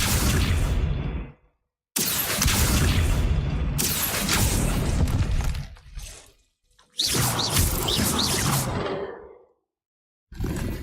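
Spell-casting effects from Hogwarts Legacy as the fire spell Incendio and the summoning spell Accio are cast: loud whooshing bursts and booming blasts in several separate surges, broken by short silences.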